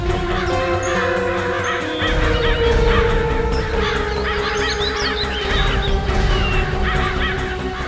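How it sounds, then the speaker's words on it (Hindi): Crows caw harshly and repeatedly near a patch of water, many calls overlapping in a loud, busy chorus over a steady background hum. "देख, वहाँ थोड़ा पानी दिख रहा है और बहुत सारे कौवे भी मंडरा रहे हैं।"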